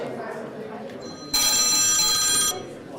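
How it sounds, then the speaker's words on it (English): A phone alarm rings for about a second, loud and electronic, cutting in sharply over quiet room tone and then stopping abruptly. "that was my alarm"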